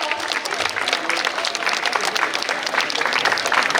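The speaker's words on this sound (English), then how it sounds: "I think it requires a huge round of applause." An audience applauds a marathon runner marking his 75th marathon at an NSS Marathon 2.0 event in Nitte, the clapping steady, dense and fairly loud throughout with a faint crowd murmur.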